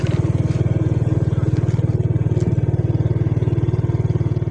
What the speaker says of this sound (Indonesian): Oke, itu motor.